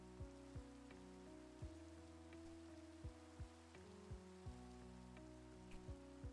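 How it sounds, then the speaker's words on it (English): Steady rain falling in Minecraft, a continuous soft hiss of drops, with a low droning game background tone and a few brief thumping clicks scattered through it, no voices. "Wow, it's still raining."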